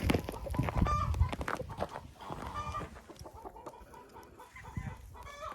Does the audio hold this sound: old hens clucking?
yes